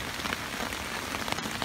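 Rain pelts a camping tent during a thunderstorm, a dense, steady patter of drops striking the fabric close by, with occasional sharper taps and no talking.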